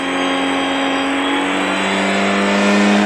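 A car engine running on a combined LPG and petrol setup with a power jet, revving high and holding a loud, steady, strained drone with a slight rise in pitch, close up and uninterrupted.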